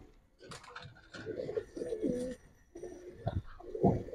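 Giribaz pigeons, a pair of khaki mottled birds on a pigeon farm in Old Dhaka, coo softly and repeatedly at close range in short rounded phrases, with brief gaps between bursts.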